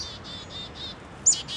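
Chickadees give several short, high chirps close by while being hand-fed outdoors, spaced in a quick series with one slightly louder call near the end.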